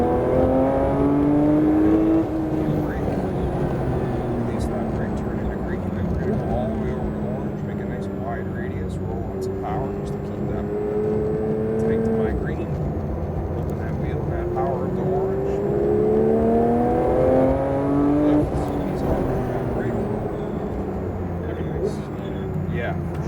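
A Porsche engine pulls hard around a track driving course, its tone climbing and falling repeatedly as it accelerates and lifts between corners, loud and close throughout, with a voice speaking over it.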